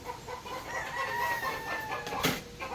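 A rooster crows in one long, drawn-out call over a busy outdoor farm backdrop, with other hens clucking nearby.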